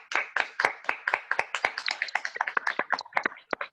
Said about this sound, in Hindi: क्यों ना जब वो आते हैं ताली बजाकर हम लोग उनका स्वागत करें।